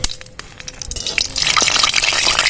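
Crackling and popping begin in hot mustard oil, then swell into a louder, continuous sizzle as dried red chillies are dropped in to fry.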